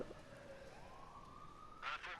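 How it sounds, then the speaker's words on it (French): A police siren from the video game Watch Dogs 2 rises slowly in pitch, faint and distant beneath the game's ambient noise, with a brief brighter burst near the end. "j'entends des sirènes, mais je sais pas si c'est des sirènes des voitures qui sont juste là"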